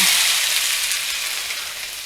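Crushed onion and chili hit hot melted butter in a pan for a yam stir fry, giving a loud, steady, close-up sizzle of frying that holds without a break and fades slightly toward the end.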